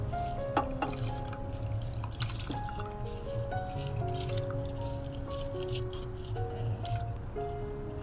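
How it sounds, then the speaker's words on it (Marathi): Rice is rinsed by hand in water with close, continuous squishing and sloshing, a few light clinks, and a faint steady tonal sound running underneath. "2-3 वेळेस तांदूळ धुवून घ्यावे"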